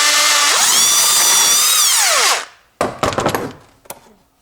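A 10mm socket spins on a Toyota Corolla (2018–2023) air filter housing clamp, a loud steady whir that winds down in pitch over about two seconds, then a few close clacks and knocks.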